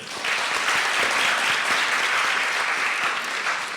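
Warm round of applause from an audience at a book panel, steady dense clapping starting abruptly and continuing evenly at moderate volume.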